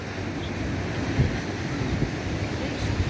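Sea waves where the Cagayan river mouth meets the sea at Aparri, a continuous rushing surf wash with wind buffeting the microphone, steady and close.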